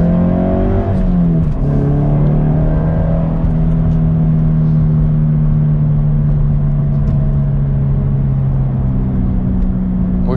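A car with an aftermarket exhaust accelerates hard out of a roundabout, the engine note loud and close, rising briefly then holding a steady drone as it pulls through the gears.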